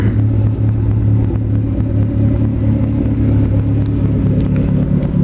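A Mitsubishi Cordia turbo, running 13 psi of boost, idles in a carport after a late night drive, its engine a loud, steady low rumble heard up close with no voices over it.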